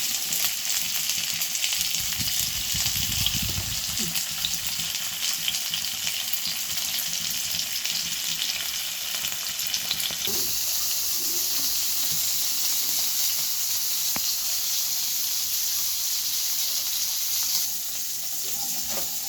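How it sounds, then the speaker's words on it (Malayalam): Sardines laid in a pan with curry leaves fry with a steady, dense sizzle that holds loud and continuous throughout, shifting slightly in tone partway through, with no voices. "പിന്നെ നമുക്ക് നമ്മുടെ മത്തി ഇങ്ങനെ അടുക്കി വെച്ച് ഫ്രൈ ചെയ്തെടുക്കാം."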